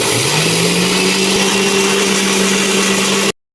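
Electric mixer grinder whirring on its lowest speed setting while grinding jamun for shots, a steady loud motor hum with a rising start that runs continuously before cutting off abruptly.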